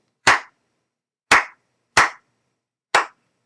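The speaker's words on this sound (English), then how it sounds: "Now if I just tap the beats without counting, you'll hear how they are asymmetrical." Four sharp, close slaps or taps in an uneven rhythm, with gaps of differing length between them, alone in silence.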